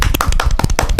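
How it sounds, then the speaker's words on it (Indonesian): Quick burst of close, loud hand clapping from a small group, dense and irregular, cheering on podcast hosts during a recording. "Kasih tepuk tangannya dong."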